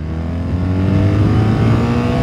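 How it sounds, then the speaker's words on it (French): A BMW R 1300 GS Adventure motorcycle engine revs hard and steadily, a loud, sustained close-up drone climbing in pitch with no talk over it. "Ce moteur, il prend des tours avec beaucoup de gourmandise,"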